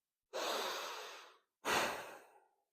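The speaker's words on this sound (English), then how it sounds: "think about breathing deep down into your tummy like this" Two slow, deep breaths drawn low into the belly, each a long, soft airy rush, the second slightly louder, with a brief pause between and no talking.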